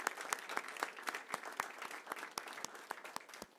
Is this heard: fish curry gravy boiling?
no